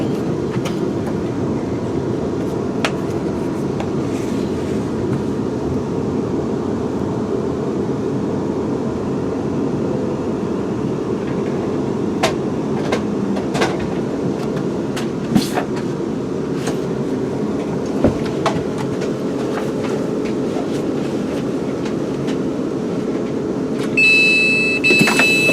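A London Midland train idles at a station platform, a steady low engine rumble with scattered clicks and clanks, then a short rise in noise near the end.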